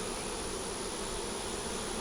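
Honey bees buzzing in an opened hive, a steady, even drone that fills the whole stretch without pause, soft and continuous with no voices.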